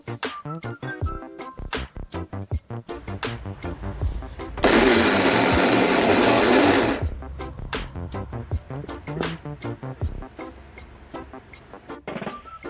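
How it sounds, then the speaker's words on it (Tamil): A kitchen mixer grinder roars for about two seconds, coarsely grinding soaked chana dal and urad dal, set between stretches of sharp, rhythmic clicking and tapping with no talk. "நல்லா அரைக்காதீங்க, 2-3 சுத்து விட்டால் போதும் மிக்ஸி ஜாரில் போட்டுட்டு"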